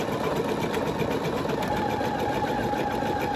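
An embroidery machine stitching a snap tab design in the hoop gives a continuous fast mechanical whir and rattle, steady and moderately loud throughout with no pauses.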